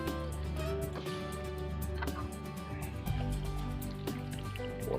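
Water poured from the edge of a spring container garden pot onto the soil, a soft steady trickle and splash close by with faint dripping, no talking.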